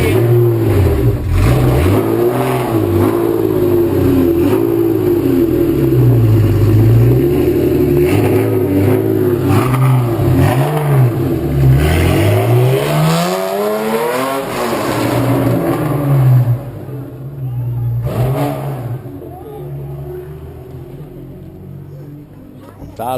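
A Porsche fitted with an Atalla exhaust tip revs hard and loud, close by, its engine note rising and falling in repeated sweeps as it pulls away, with people talking and shouting over it.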